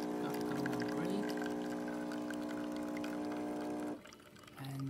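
Coffee streaming from a DeLonghi Magnifica espresso machine, a steady hum and liquid pour that stops abruptly near the end, close and quiet.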